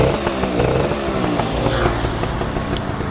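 A motorcycle engine idles and revs during a sound check on a two-stroke or 250cc four-stroke bike, a loud, raspy buzzing drone with quick throttle blips, close up and steady without talk.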